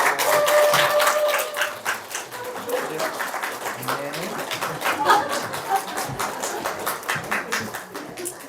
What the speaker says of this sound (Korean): 현준이 박수 주세요.